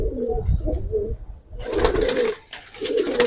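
Giribaz pigeons in a loft coo in soft, rolling phrases, close by and clear, with a brief pause midway before the cooing resumes.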